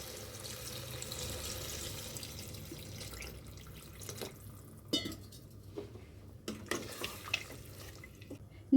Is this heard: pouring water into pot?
yes